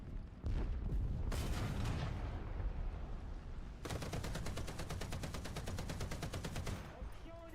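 Tank machine gun firing in War Thunder, long continuous rapid bursts of rattling shots over a low rumbling engine and battle noise, loud and close, with no talk.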